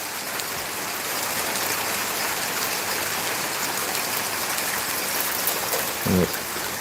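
Steady, dense patter of hail striking a hot tub, a continuous rattling hiss with one brief louder knock near the end.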